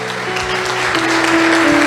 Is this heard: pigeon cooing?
no